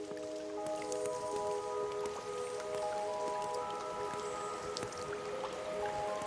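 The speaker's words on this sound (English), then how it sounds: "Drop by drop, the glacial dome releases its waters into the icy stream below" Glacier meltwater drips steadily inside an ice cave, scattered close plinks and drops falling over a constant wet wash of trickling water.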